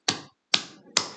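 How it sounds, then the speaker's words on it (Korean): Three soft, sharp hand claps come in a steady, evenly spaced rhythm during a church service, each a crisp snap with a short echoing tail in a quiet room. "이렇게 치면은 소리가 작아"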